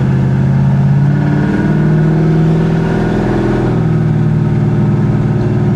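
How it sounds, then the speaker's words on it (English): A 1966 Chevy Impala engine drones steadily while driving, a loud low rumbling exhaust that rises and falls slightly in pitch throughout. "Maybe we should close that loud exhaust."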